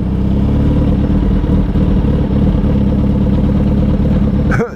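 A motorcycle engine runs steadily close by while pulling away in second gear, a low continuous drone with slight stutter, ending with a brief clatter.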